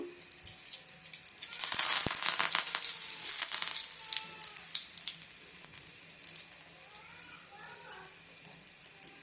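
Curry leaves hit hot oil with a loud close burst of sizzling and spattering that peaks early and then settles into a quieter steady fry.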